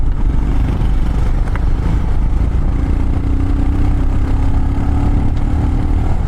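Custom Royal Enfield Himalayan, the Latitude 440 built on the 411, rides along with a steady, loud engine drone and constant wind rush throughout, a sustained engine tone rising slightly as it holds speed.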